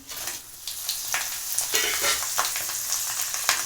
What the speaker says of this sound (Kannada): ಇವಾಗ ಸ್ವಲ್ಪ ಕರ್ತೀವಿ ಇದೆಲ್ಲ ಸ್ವಲ್ಪ ಫ್ರೈ ಮಾಡೋಣ